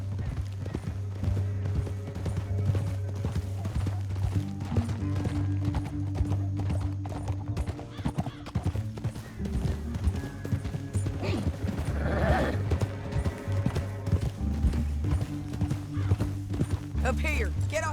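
Rapid clip-clopping of galloping horse hooves in Red Dead Redemption 2 runs throughout at a steady rhythm, with a horse whinny partway through and voices over it.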